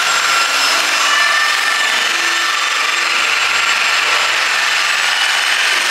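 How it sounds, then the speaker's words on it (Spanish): Steady, loud rubbing whir of a power polisher working over car trim pieces finished in black gloss on a Mini Cooper, continuous and close for the whole stretch with no voices. "ya se están puliendo de forma general"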